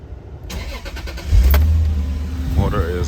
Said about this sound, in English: Let me go ahead and start up the car for y'all.